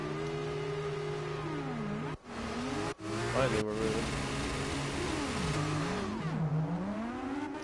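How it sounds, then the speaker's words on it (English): Racing car engines rev at Silverstone in a racing game, rising and falling pitch sweeps from several nearby cars layered under a brief spoken remark. "I hear engines being revved."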